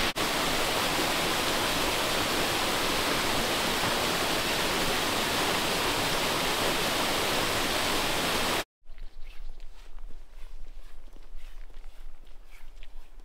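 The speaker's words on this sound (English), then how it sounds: "it's a much lesser known waterfall in the Northumberland area." A lesser-known waterfall deep in a Northumberland forest roars as a loud, steady broadband rush, then cuts abruptly to a much quieter outdoor ambience of faint wind and distant water for the last few seconds.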